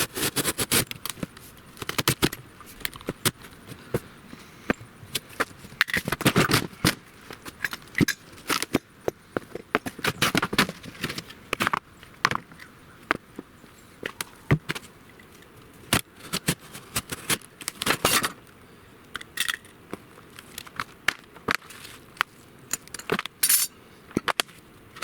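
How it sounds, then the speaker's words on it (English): Someone cuts away the cardboard box around a PowerSmart 24-inch 212cc snow blower, making irregular bursts of scraping, slicing and rustling cardboard, close and fairly quiet, with short pauses between strokes. "I'm going to cut the box from around it."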